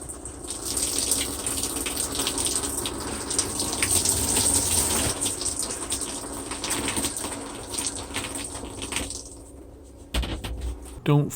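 Water rushes steadily through an RV shower while the rig is being winterized, a broad continuous hiss that cuts off near the end, followed by a few faint knocks and handling sounds.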